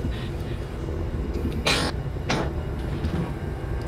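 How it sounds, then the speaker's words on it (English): A Silent Hill 4 game character coughs twice in quick succession, short harsh bursts over a steady low ambient rumble. "Sounded like somebody coughed and then they like glitched out."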